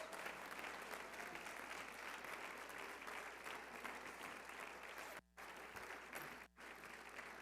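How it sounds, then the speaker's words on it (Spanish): A congregation at an evangelical church service claps loudly in praise, a dense continuous roar of applause broken by two very brief dropouts. "denle un aplauso bien fuerte al Señor."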